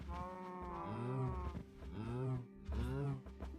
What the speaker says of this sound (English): All the cows.